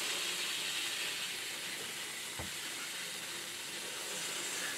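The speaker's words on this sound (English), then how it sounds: "I'm sure you can hear it." Steady hissing of steam rising from hot water on the finish of a Yamaha FG230 12-string acoustic guitar, soft and continuous, close up with no talking.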